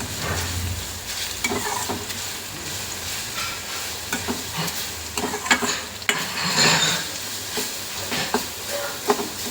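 Crushed garlic frying in hot oil, a continuous close crackling sizzle with irregular pops and spatters throughout.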